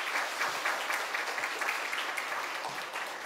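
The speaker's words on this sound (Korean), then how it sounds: "크게 박수 한번 쳐주시길 바랍니다" A congregation at a Korean church Sunday service applauds a missionary from Kenya, with steady, dense clapping that stays even and moderately loud throughout.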